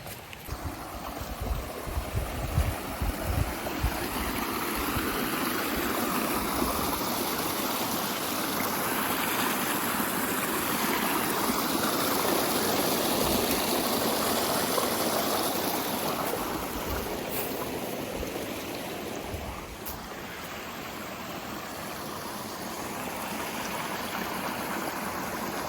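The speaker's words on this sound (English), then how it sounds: "cannot get enough of these little brooks in the woods that just crisscross the trail like this" A small woodland brook running across a trail, a steady close babble and trickle of water that carries on unbroken, with a few brief thumps early on.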